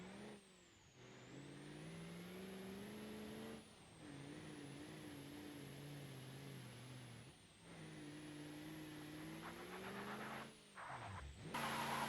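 In BeamNG.drive, a D-Series truck in four-wheel drive low groans with a steady engine drone that rises and falls in long revving passes, wheels straining, no talk.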